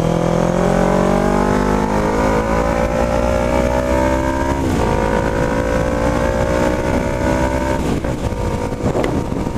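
A blue Honda CB500 motorcycle accelerates hard during a test ride, its engine note climbing loud and close, then dipping briefly at two gear shifts before rising again, with steady wind rush underneath.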